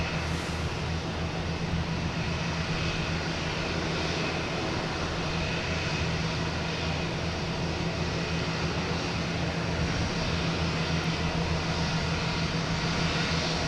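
A jet airliner departing Boston Logan for San Francisco roars steadily and loudly throughout, a continuous broad engine rumble with a sustained tonal whine and no voices.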